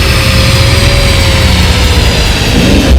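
Engine of an Infiniti Q50 with a tuned transmission, downshifting on the move: a loud, steady low drone heard from the cabin, with the pitch shifting slightly near the end.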